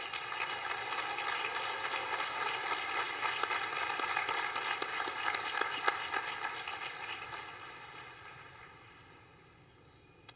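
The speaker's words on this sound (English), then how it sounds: "Give him another round of applause." Sustained applause from a large crowd at the Emory University 2023 commencement ceremony, dense and steady, then gradually fading out over the last few seconds.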